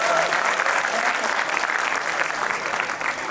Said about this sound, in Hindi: तो ताली बजाओ एक बार सारे लोग।